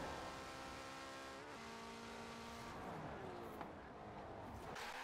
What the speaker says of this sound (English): the Porsche 918 Spyder, stock and fully upgraded, seems to be the fastest car in the game from getting from 0 miles an hour to 60 miles an hour